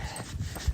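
A dog gives short whimpering whines in one brief burst, close and fairly clear, with a slight louder yip at the end; no talk.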